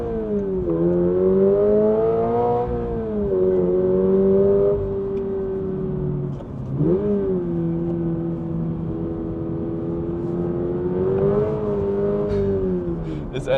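The boxer four-cylinder of a 2026 Toyota GR86 revs up and holds high, then drops and climbs again, a smooth loud engine tone rising and falling in repeated pulls.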